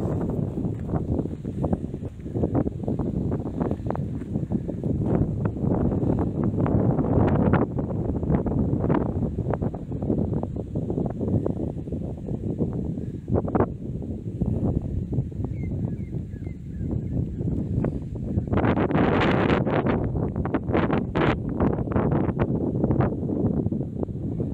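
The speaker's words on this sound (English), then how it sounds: "It is a little bit windy." Strong wind buffets the microphone in a Lutheran cemetery in South Australia, a constant loud rumbling gust with a sharper rush near the end and no voices.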